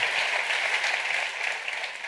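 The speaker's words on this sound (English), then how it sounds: "Big round of applause for Joe Abercrombie." A live book-event audience applauding author Joe Abercrombie, a dense steady wash of clapping from many hands that fades slightly toward the end, with no talking.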